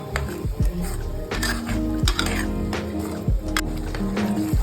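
Vegetable masala for a brinjal and potato curry is stirred in a pan on a gas stove, with repeated metal scrapes and clinks against the pan over a steady background tone and no talking.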